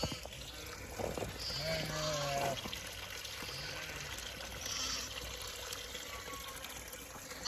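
Water runs from a garden hose that had frozen in bitter cold and is now thawed, giving a soft, steady trickle with light background noise throughout.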